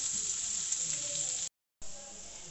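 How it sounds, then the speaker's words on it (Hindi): Chopped medium onion sizzling steadily in a pan while being cooked for keema samosa filling, a close, continuous frying hiss that cuts out briefly and resumes softer, with faint stirring. "मीडियम साइज़ की प्याज है, उसको मैंने चॉप कर ली है, वो डालेंगे। प्याज को हम ट्रांसपेरेंट करेंगे"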